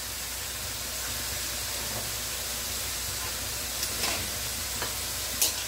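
Salted food being stirred in a hot cooking pan, a steady sizzling hiss with faint scraping stirs and a couple of brief clinks toward the end, no talk.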